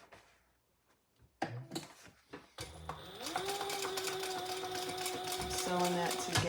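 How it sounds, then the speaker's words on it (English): A sewing machine sews a seam on a Jeanniebag shoulder bag, starting after some fabric handling and then running steadily and loudly up close for several seconds. "Sewing that together at my seam allowance in the pattern."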